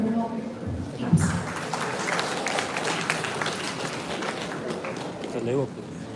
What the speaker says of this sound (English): Please welcome him to the round of applause.